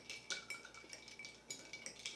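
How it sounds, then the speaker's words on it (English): A spoon stirs a Campari cocktail with oleosaccharum in a glass, making quiet, rhythmic clinks and swirls of metal against glass, soft and close. "give this whole thing a really good stir to incorporate the oleosaccharin"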